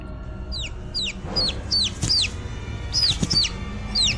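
Chicks peep and call back and forth among dense bamboo at night, a steady run of high, short downward-sliding cheeps, roughly two per second, over a low dark rumble.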